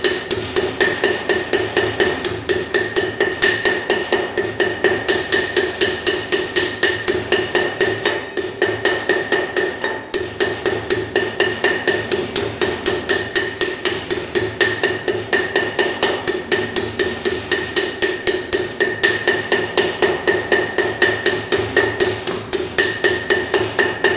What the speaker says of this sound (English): I want to do some light hammer taps all the way around until this edge goes